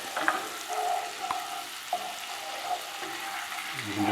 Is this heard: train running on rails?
no